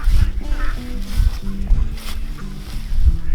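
Ducks on an off-grid homestead honk and quack in a busy, overlapping flock close by, with low farmyard rumble beneath.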